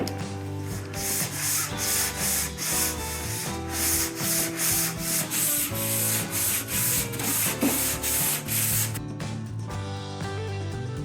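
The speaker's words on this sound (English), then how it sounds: "Can still hear little bits of sanding going on" Continuous rasping sanding during prep work on a sailboat, with a steady scratchy rubbing texture and rhythmic pulses of strokes, fairly close and with no talking.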